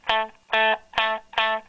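Four plain, undistorted guitar notes played through a Lenahan Opto Comp 280 optical compressor pedal, each note sustaining smoothly about a quarter second then cutting off, evenly spaced and clear with no talking.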